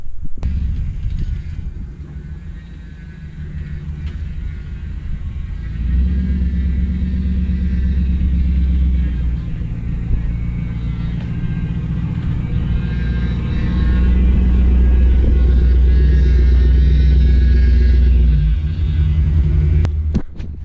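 A pickup truck rolls slowly across a cattle pasture, its engine a steady low rumble that swells a little midway and holds close and loud throughout, with no voices.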